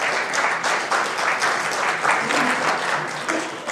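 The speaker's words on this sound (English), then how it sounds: "a round of applause for our panel to start" An audience at a conference panel on the affiliate industry breaks into applause: dense, steady clapping from a full room, rising in waves and carrying on for several seconds.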